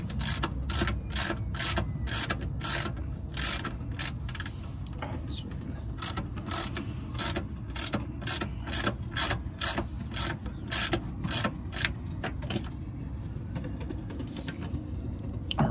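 Ratchet wrench tightening a hood support strut on a Honda Element, a fast, loud, close run of regular metallic clicks that stops near the end over a constant low background hum.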